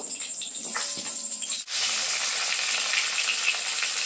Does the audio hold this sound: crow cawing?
no